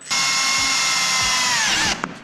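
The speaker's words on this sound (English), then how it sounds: "So we've got to drill right towards the top." A power drill whines steadily at high speed for about two seconds while drilling into a kitchen wall, close and loud, then winds down and stops.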